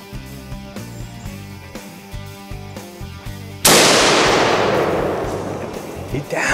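A single loud rifle shot fired while hunting big whitetail deer in Ohio cracks over background music, its broadband blast decaying slowly for several seconds.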